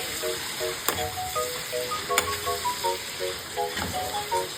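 Shrimp fry in butter and garlic with a continuous close sizzle and hiss, broken by a few sharp clicks of a utensil against the pan and soft musical tones underneath.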